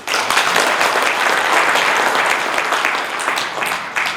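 Sustained applause from an indoor audience at a Korean leadership lecture, a dense wash of clapping that holds steady throughout at close range.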